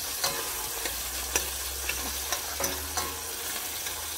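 Onions frying in a pan with tomatoes nearby, a steady sizzle underneath and periodic scraping stirs at roughly half-second to one-second intervals, close and moderately loud.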